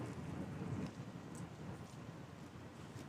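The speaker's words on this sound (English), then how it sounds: "I love the sound of thunder" Low rolling rumble of distant thunder, loudest in the first second and then fading into a steady broadband wash like rain or wind, with no voices.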